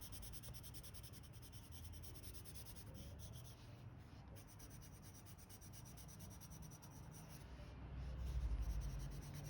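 A coloured pencil scratches and rubs continuously across paper, a soft, close, steady drawing rasp with no talking.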